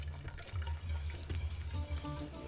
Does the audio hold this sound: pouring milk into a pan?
yes